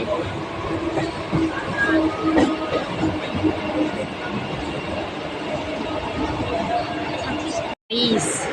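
A commuter train pulls into Sealdah station, Kolkata: a steady, loud rumble of wheels and carriage noise with crowd chatter throughout, broken by a brief dropout near the end.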